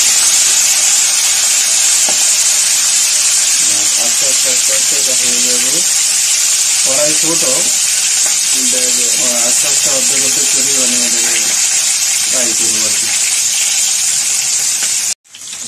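Fish pieces fry in hot oil in a wok, a loud steady sizzle and hiss running the whole time, with someone talking over it at intervals.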